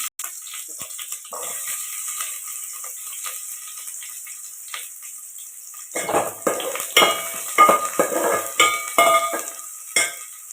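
Onions sauté over a slow flame for a chicken gravy, a soft continuous sizzle with a spoon scraping and clinking against the pan, the stirring growing louder and more rhythmic in the second half.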